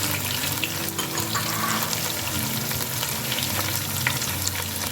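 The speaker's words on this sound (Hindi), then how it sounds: "थोड़ा सा टमाटर को मेल्ट करने के लिए पानी 4 टेबल स्पून ऐड किया मैंने।" Tomatoes sizzle loudly in a pan with red chilli, turmeric and salt as water is added, a dense continuous hiss and bubbling crackle, close up with no talk.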